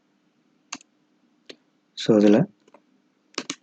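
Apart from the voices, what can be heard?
typing on a computer keyboard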